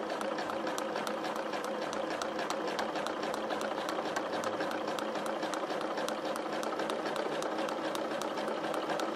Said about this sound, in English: So we're going to sew very slowly.